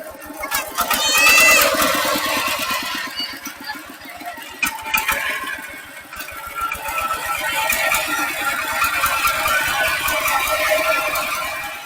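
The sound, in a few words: tractor engine running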